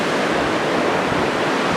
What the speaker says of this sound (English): Waves everywhere, beautiful ocean.